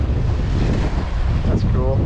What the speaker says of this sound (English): Absolutely windy out here, guys.